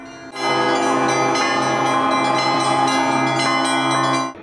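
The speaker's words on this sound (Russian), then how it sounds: "Колокольный звон ознаменовал начало крестного хода." Church bells ring loudly and continuously at the start of a religious cross procession in a park, overlapping metallic tones sustaining and blending into a rich, resonant peal that fades out at the end.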